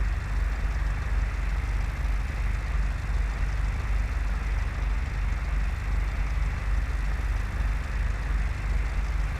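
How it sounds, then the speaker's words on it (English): Airplane engine at reduced power during a soft-field landing approach in Microsoft Flight Simulator, a steady, even drone with a low rumble that holds unchanged and fairly loud throughout. "we'll reduce the power completely and glide the airplane onto the soft field runway at 63 knots"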